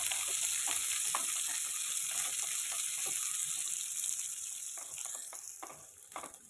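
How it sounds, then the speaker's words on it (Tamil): Onions and green chillies sauté in hot oil in a pan for a bottle gourd and field bean curry, a steady close sizzle with scattered crackles and occasional stirring scrapes that ease off slightly toward the end. "வெங்காயம் பச்சை மிளகாய் சேர்த்துக்கலாம் இதை நல்லா வதக்கலாம்"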